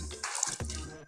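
A water collector in the zombie survival game Dawn Of Zombies gives a brief splashing, trickling rush of water, soft and quick with a short pause midway.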